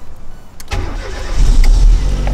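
A car engine cranks and catches, then runs louder and steadier close by, without talk.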